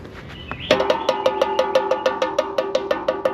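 A metal plate struck repeatedly to call Muscovy ducks on a farm, a loud ringing clang followed by a steady run of about a dozen evenly spaced sharp strikes.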